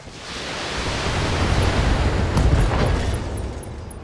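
A mech explodes in the Battletech video game, heard as a loud, sustained roaring burst of rumbling noise that swells and slowly fades, with no talking over it.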